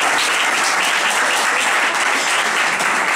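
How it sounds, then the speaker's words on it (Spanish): An audience breaks into applause for a teacher at a school gathering, a thick, even roar of clapping from many people that holds steady and loud throughout, with no voices over it. "Un aplauso para ella,"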